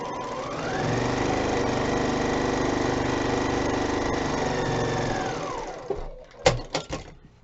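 A sewing machine stitches quilt block strips with a steady, close mechanical hum that speeds up, holds an even pace for about five seconds and then slows to a stop, followed by a few sharp clicks and clacks.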